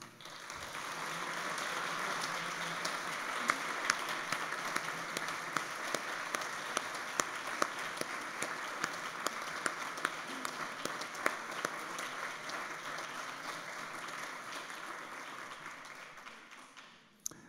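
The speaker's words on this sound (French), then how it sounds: "un petit temps d'applaudissement pour toute l'œuvre que Gustave nous a laissée" Sustained applause from a crowd, steady dense clapping with a few sharper individual claps standing out, fading at the end.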